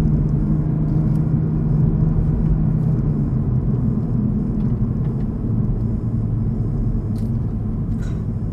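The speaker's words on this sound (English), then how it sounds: "Oh, this is a great exhaust note." Steady, loud engine rumble from a 2021 Toyota GR Supra driving at speed, a deep exhaust drone holding throughout with little variation.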